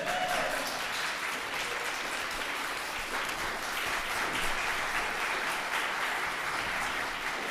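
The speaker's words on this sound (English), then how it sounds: "You may clap now." An assembly chamber at a plenary session fills with steady, dense applause from many people, sustained evenly throughout with no speech over it.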